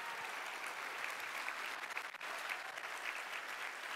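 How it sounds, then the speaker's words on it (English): Sustained applause from a crowd at a QuakeCon 2018 keynote, steady dense clapping at a distance that dips briefly midway and continues. "Please, another round of applause for those awesome folks."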